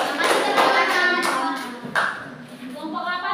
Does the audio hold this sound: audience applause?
yes